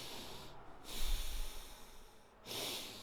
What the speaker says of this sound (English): like I'm breathing pretty heavily right now.